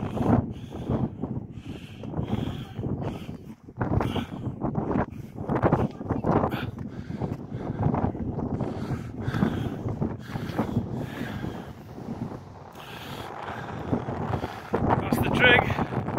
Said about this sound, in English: Careful as you're coming up. It's quite breezy on top.